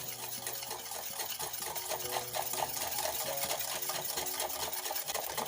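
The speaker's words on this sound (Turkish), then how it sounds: "Güzelce karıştıralım" A spoon stirs a cocoa and butter mixture for profiteroles, producing soft, continuous scraping and mixing sounds with a steady rhythmic texture, close and fairly quiet, with no talking.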